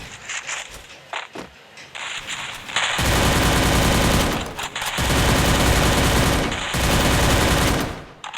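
Battle video game gunfire: sustained loud bursts of automatic fire in long sweeping volleys, broken by brief pauses with lighter shots and footsteps.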